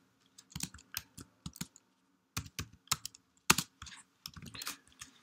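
Fingers type code on a computer keyboard in short bursts of crisp key clicks separated by brief pauses, close and fairly quiet, with no talking.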